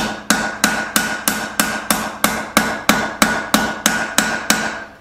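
A hammer strikes a rivet on tongs being forged, giving about fourteen sharp, evenly spaced metallic blows at a steady, brisk rhythm, loud and close with ringing decay.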